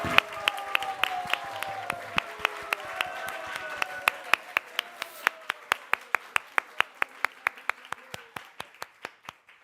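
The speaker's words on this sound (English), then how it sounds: "I think we can give a big round of applause to these devotees." An audience at a Krishna Katha gathering applauds devotees, starting as a full crowd ovation with voices, then tapering to a single person's sharp, evenly spaced claps that slowly fade.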